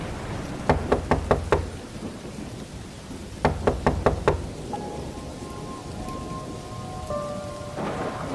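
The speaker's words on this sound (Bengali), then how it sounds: "দরজায় ধাক্কার শব্দ হতেই" Two quick bursts of five sharp knocks on a door ring out over steady falling rain and low thunder, followed by a faint sustained tone, with no voices.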